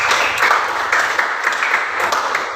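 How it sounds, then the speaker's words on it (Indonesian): Classroom applause from students, with dense continuous clapping that stays fairly loud for a couple of seconds. "Oke, beri aplaus dulu."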